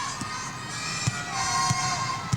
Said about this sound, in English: The Whitefish Bay crowd on its feet